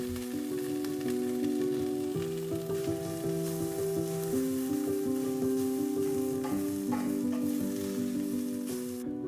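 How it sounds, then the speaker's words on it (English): Chickpeas and bamboo shoots fry in a tablespoon of chili oil in a hot pan, giving a continuous soft sizzle over a steady melodic background tone, with no voices. "Pan back on the heat, add a tablespoon of chili oil, chickpeas and bamboo."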